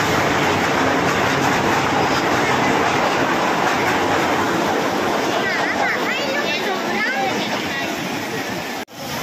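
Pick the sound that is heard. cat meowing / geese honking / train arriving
train arriving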